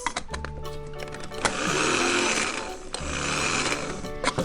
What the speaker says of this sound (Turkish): Havucumuzu blenderımıza koyuyoruz.